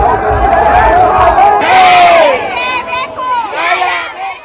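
Protesters at a clash during a Ganesh immersion procession in Mandya, Karnataka, shout slogans in loud, continuous massed voices, with rising chants and overlapping cries throughout.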